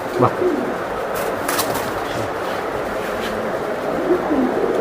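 Caged racing pigeons coo in low, throaty calls, several birds overlapping close by. A steady background hum runs beneath them, with brief sharper rustles.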